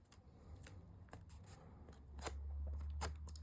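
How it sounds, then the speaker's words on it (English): Scissors snip a small V into the corner of a chipboard album cover, a series of close, crisp cuts and crunches at an uneven pace with a low hum underneath. "I just take my scissors and I cut away a little V towards the corner"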